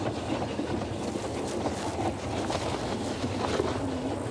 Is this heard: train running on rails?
yes